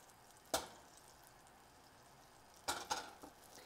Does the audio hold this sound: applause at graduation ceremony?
no